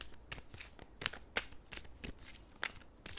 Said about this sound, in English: let me just finish shuffling these